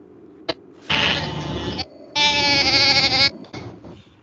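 A sheep bleats loudly and close by at a pet event, with two long wavering calls separated by a short pause and a quieter bleat after, over faint background noise.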